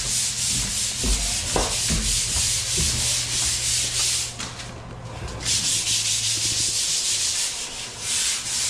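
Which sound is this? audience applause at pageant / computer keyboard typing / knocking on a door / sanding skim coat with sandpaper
sanding skim coat with sandpaper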